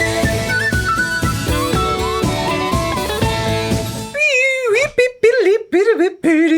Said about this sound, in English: Ian plays a blues riff on the penny whistle